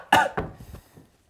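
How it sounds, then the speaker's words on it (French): Two sharp coughs in quick succession, close and fairly loud, trailing off into quieter breathy sounds. "T'as une petite toux?"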